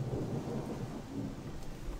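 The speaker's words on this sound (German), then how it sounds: "Und der Regen nervt aber halt gerade ein bisschen." Rain and thunder in the video game Gothic 2: a continuous heavy downpour with a low rolling thunder rumble, steady and moderately loud, with no voices.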